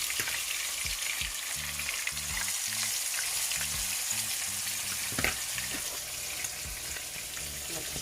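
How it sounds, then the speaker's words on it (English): Fish frying in a pan with scotch bonnet pepper gives a steady, dense sizzle throughout, with occasional low thumps and clinks from handling the pan. "We're gonna just like fry them up first"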